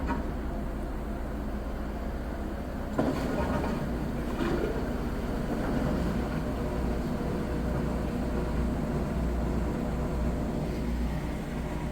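A Maytag Bravos XL top-load HE washer spins up during its first spin-out, a steady broadband whir and rumble that holds continuously, with a clunk partway through and someone talking over it.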